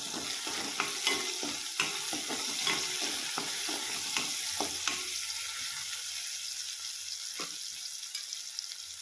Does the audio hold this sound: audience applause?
no